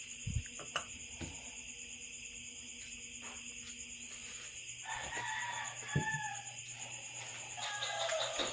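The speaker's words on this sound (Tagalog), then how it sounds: "Manok, pasensya na." A chicken clucks faintly in short, scattered calls against a quiet background with a steady hum, near a home kitchen where dried fish and eggs are being fried.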